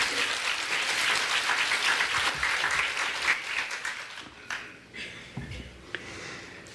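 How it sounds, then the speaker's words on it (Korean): Congregation applauding during a sermon, dense clapping that fades after a few seconds into scattered claps and quiet. "한번 참모님께 큰 박수를 보내주세요."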